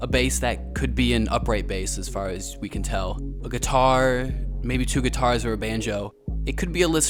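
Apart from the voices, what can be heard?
No everyday noise stands out behind the speech.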